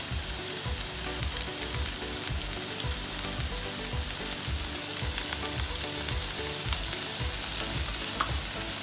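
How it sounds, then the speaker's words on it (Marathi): Chopped garlic and ginger fry in a pan for a Goan chicken chilli, a steady dense sizzle running throughout with no pauses, close and even in loudness, with faint clinks near the end. "लसूण आलें बरें कापून तें बारीक करप आनी धाडोन तें मागीर तितून घालपाचें"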